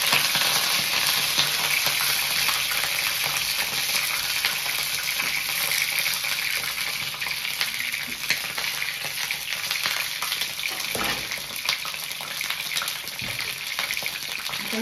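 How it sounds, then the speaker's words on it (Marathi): Eggplant pieces, soaked in salted water and drained, sizzle and crackle steadily in hot oil for masala vaangi, with occasional scraping stirs in the pan and no talking. "आता ह्याच्यामध्ये मी आधी वांगी परतवून घेणार आहे"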